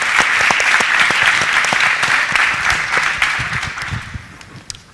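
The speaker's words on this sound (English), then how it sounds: "Give yourselves a round of applause." Conference audience at a tech session applauding, a dense sustained round of clapping from a crowd that holds steady for several seconds before thinning out at the end.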